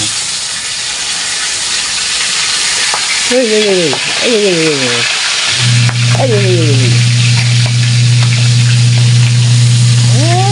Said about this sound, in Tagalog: Pwede na natin baliktarin yung ating bangus.